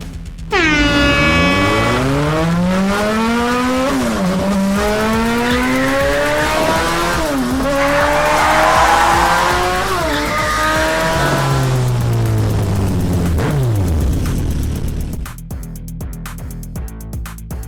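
Race cars launch and tear around a track, engines revving in rising and falling sweeps over the whole stretch, loud and close, with a long tire squeal late before the roar cuts off into quieter rumble.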